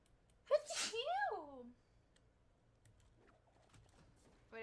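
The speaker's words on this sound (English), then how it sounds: "I have to sneeze." One close, loud sneeze with a sharp burst and a falling wavering tail, then faint shuffling and small background noises.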